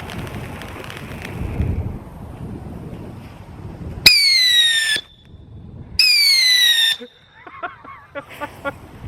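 Consumer fireworks during testing: rising whistling shrieks in two separate bursts, each ending sharply, followed by a scatter of crackling pops, heard fairly close amid outdoor background noise.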